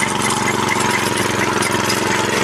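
Grass-cutting machine engine revving steadily at about 80% throttle in second gear while mowing Napier grass for cattle, a loud, continuous close-up drone with no talk.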